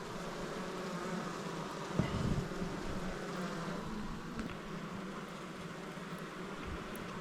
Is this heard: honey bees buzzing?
yes